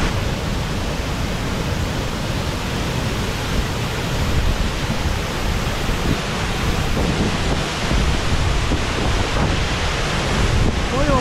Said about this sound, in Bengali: এই হচ্ছে জোনা ওয়াটারফলস, ব্যাপক ওয়াটারফলসটা, ব্যাপক।